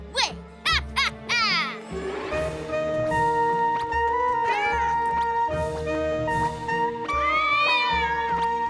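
Cartoon cats meow repeatedly in a PJ Masks episode, bright rising and falling cries layered over background music, close and loud throughout.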